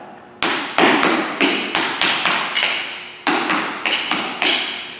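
Tap dance ball change steps with toe clicks, a run of about eleven crisp, hard taps on a wooden floor in an uneven rhythm, each ringing briefly, close and loud with no voices.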